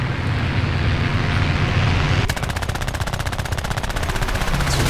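Aircraft machine guns firing in the War Thunder air combat game, a long rapid burst of rattling shots over a steady engine roar, loud and continuous with no talk.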